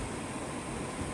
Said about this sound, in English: you may hear car noises in the background some